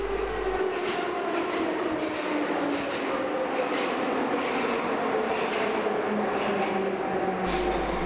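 A 1976 Soviet-built Metrovagonmash metro train in Budapest rumbles steadily along the track, its loud continuous roar carrying a whining motor tone that slowly shifts pitch throughout.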